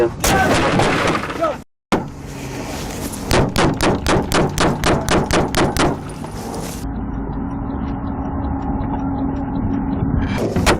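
Gunfire aimed at a police officer during a refuel stop: a rapid burst of about a dozen loud, sharp shots in a steady rhythm, with earlier shots before a brief dropout and a constant rumble underneath afterward.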